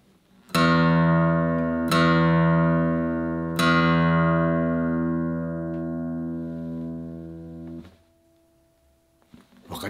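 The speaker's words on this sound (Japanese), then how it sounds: "こちらです、マーチンの D28 スタンダード2006年製になります。 ちょっとこれの低音と比べてみますね。" A 2006 Martin D-28 Standard acoustic guitar rings out with three strummed low chords, each left to sustain and decay, close and clear with no talking.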